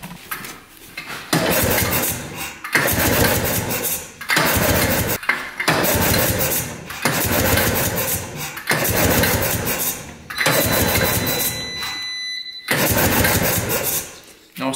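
An ATV engine on a snow-plowing quad is pulled over repeatedly, with a series of loud, rhythmic cranking bursts about every second or two and brief pauses between pulls. A faint metallic clink comes near the end.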